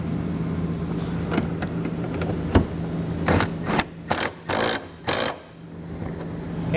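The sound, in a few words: ratchet with 17mm socket tightening bolts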